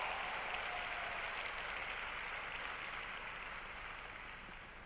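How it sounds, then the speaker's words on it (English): Audience applause after a first-time speaker's talk on stage at a presentation, a steady dense patter of clapping filling the room, fading slightly toward the end. "So give her a round of applause."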